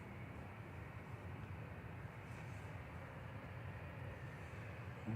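A Ryanair Boeing 737-800 operated by Malta Air departs from Manchester Airport, its engines a steady, fairly distant broadband roar that holds evenly throughout with no voices.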